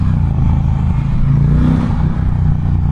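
An Indian Challenger motorcycle engine revs steadily while held in second gear and winding out. It is loud and close, a continuous deep throbbing roar with a slight rise in pitch and no talking.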